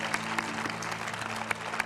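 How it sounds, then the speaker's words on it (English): An audience applauds for former Chicago Bears linebacker Mike Singletary, a steady wash of clapping with a few sharper claps standing out, at moderate level and with no talk over it. "how about a round of applause for the great Mike Singletary"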